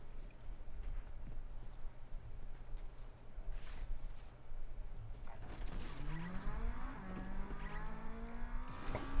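A video game car's engine revs and pulls away, its pitch rising and falling as it accelerates off, fairly quiet, with no talking.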